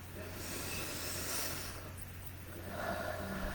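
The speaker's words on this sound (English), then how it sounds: "So take a nice big breath on that." A slow, deep breath drawn in and let out, soft and close with a faint hiss of air over a low steady background hum.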